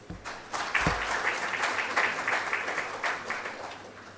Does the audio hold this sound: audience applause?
yes